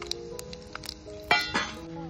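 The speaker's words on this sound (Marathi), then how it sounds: "आता आपण खडे मसाले टाकू." Whole spices such as caraway, bay leaf, cinnamon and star anise drop into hot oil in a pan, giving two sharp crackling bursts over faint background clinks and a low voice.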